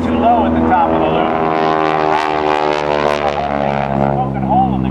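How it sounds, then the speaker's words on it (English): A stunt airplane flying a loop at an air show drones with a loud, steady propeller engine whose pitch shifts as it climbs and turns, close and continuous throughout. "he was doing a loop, like you see Kevin Russo doing now"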